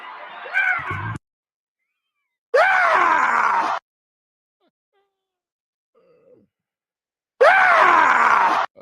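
A famous viral scream from a political speech recording plays as three loud, strained yelling bursts with falling pitch, separated by stretches of near silence.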